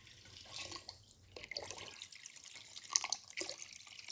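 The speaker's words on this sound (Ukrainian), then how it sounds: "Заливаємо все теплою водою, щоб казан був практично повний." Warm water poured into a cauldron for chanakhi cooked in a wood-fired oven, intermittent splashing and trickling with drips, close and moderately loud.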